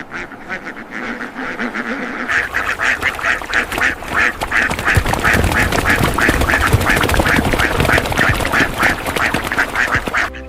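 Dense, continuous quacking comes from a large crowd of ducks on a farm, loud and close, a chaotic chorus that holds steady with no speech.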